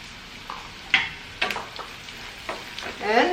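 Spices with jeera and dhania powder fry alongside chicken liver and gizzard in a hot pan, a soft steady sizzle broken by several sharp scraping stirs of a spoon, close and fairly quiet.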